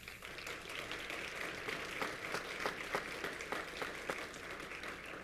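Audience applause for athletics hall of fame inductees at an alumni reunion, a steady dense wash of many hands clapping at moderate level, with individual claps popping out, continuing without a break.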